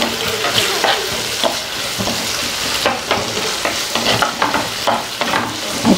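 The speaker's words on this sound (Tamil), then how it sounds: "இப்போ வந்து நம்ம வதக்கி விடலாம்." Green chillies and curry leaves sautéing in a heavy pan: a constant oily sizzle under repeated close scrapes and stirs of a spatula, loud and busy, with no voices.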